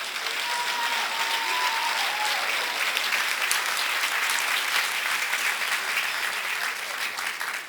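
A school auditorium audience claps steadily and loudly for a middle school graduating class, a continuous wash of applause without pauses.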